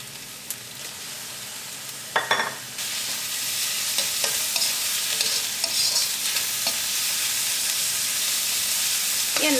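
Onion sautéing in oil with ginger garlic paste, a steady broadband sizzle throughout with scraping stir strokes from a spatula, including a louder clatter near the start; no one speaks.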